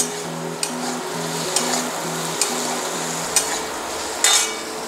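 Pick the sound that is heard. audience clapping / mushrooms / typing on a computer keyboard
mushrooms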